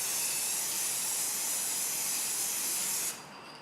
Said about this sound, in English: You want to get a little distance from your canvas and just start spraying it on